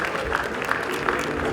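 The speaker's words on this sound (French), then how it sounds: "sous des applaudissements" Gala audience applauding a woman called up to be congratulated at a Francophonie Games partners' event, a steady wash of many hands clapping with a crowd murmur, while someone speaks over it.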